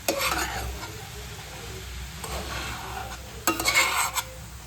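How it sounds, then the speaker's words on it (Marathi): Kharvas ingredients with sugar are stirred and sautéed in a pan on the stove, giving a soft sizzle with scraping stir strokes that come in a few louder bursts, no voices. "आणि छान असं लालसर होईपर्यंत हे परतवून घ्यायचं."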